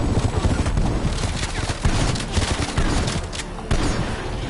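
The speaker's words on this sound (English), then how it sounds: "Semtex grenade." Dense gunfire and explosion noise from a Call of Duty Black Ops Onslaught Mode match, continuous and loud throughout, with a burst of clattering blasts where a Semtex grenade goes off amid the chaotic combat.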